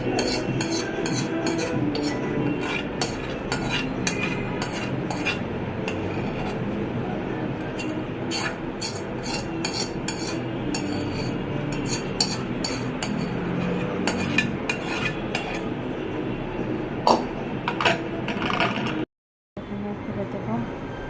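Warm mango pulp for aamsatta being spread thin across a metal plate with a utensil, a steady stream of scraping and light metallic clinks throughout, with a brief silent gap near the end.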